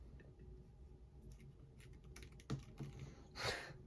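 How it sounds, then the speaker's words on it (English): Soft clicking of MacBook Pro laptop keys, scattered irregular taps, close and quiet, with one louder clack near the end. "MacBook keyboard sounds good though."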